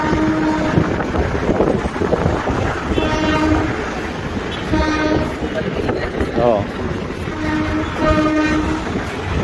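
A train rumbles past with loud rhythmic clatter, its horn sounding in repeated blasts, and a voice briefly exclaims.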